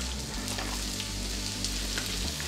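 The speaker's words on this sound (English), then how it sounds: "we're going to dump this onion shallot mixture that accidentally has a little bit of garlic in there too" An onion and shallot mixture with a little garlic fries in a pan with bacon, giving a loud, steady, close sizzle with a low hum underneath.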